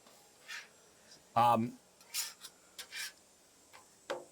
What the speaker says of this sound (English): You just flip them over.